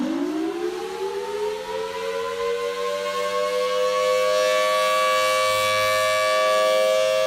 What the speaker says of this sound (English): That is the Federal Signal Thunderbolt siren.